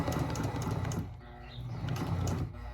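A sewing machine back stitches in rapid bursts, briefly pausing mid-way before whirring again, close and fairly quiet.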